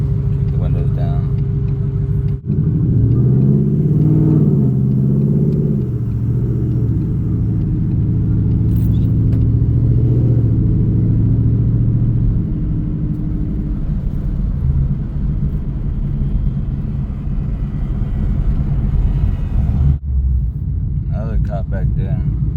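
A deep, steady V8 engine rumble from a Ford Mustang driving, with a low throaty exhaust tone that swells and settles, heard close up beneath people talking.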